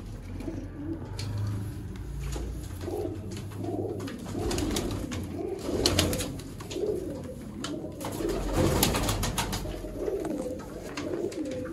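Sialkoti pigeons coo in soft repeated throaty rolls, several birds overlapping at moderate distance with a low steady background hum and no speech.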